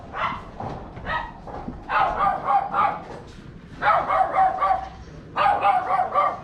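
A dog barks in repeated bursts near a jetty neighbourhood in George Town, Penang, with sharp clustered barks coming close and loud in several groups separated by short pauses.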